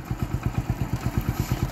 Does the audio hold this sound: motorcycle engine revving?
yes